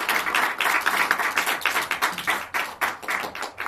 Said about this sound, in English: Let's give a big round of applause to him.